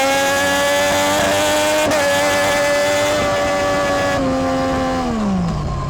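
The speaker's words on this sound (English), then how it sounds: "pretty soon you're going to hear a problem come up, and that will be a blocked injector, most likely." A Triumph Daytona 675 motorcycle with a blocked injector runs loud and close, its engine drone holding steady before the pitch drops off unevenly as it loses power.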